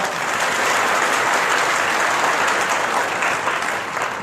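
Steady, dense applause from a large audience at a spoken discourse, loud and continuous throughout with no voices over it.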